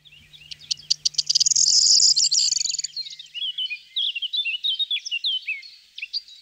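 Corn bunting song, a jangling, accelerating series of high ticking notes that runs into a dry, glittering trill and then scattered twittering, moderately near, with a faint low hum in the background and no talking.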